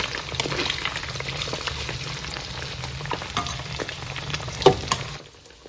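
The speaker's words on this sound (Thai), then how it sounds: "ไปทอดนะสองสามอัน" Pieces of tilapia fish fry in hot oil, giving a steady, fairly quiet sizzle with occasional stirring clicks that stop near the end.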